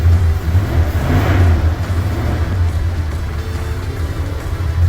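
A 1981 Ford F-150 pickup engine idles with a steady low rumble and slight fluctuations, close and fairly loud, no talking.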